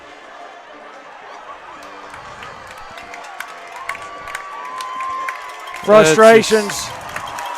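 Crowd at a basketball game breaks into a short burst of cheering and shouting near the end, rising over steady commentary talk and arena murmur.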